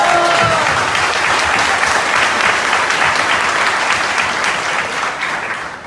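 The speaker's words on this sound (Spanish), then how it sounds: "Oye, un aplauso para él." A crowd breaks into loud, sustained applause, many hands clapping densely and evenly, holding strong before tapering slightly near the end.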